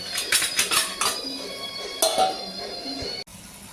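Metal clinks and rattles as a lid is set over a cooking pot of vegetables in a home kitchen, a few sharp ringing knocks, then one more clatter as it settles, close and fairly quiet.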